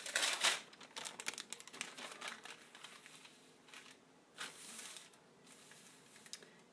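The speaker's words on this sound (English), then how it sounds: "what you will need to heat set it is a piece of parchment paper" Parchment paper is handled and crinkled at close range, giving faint, irregular bursts of crisp rustling with quieter gaps between them.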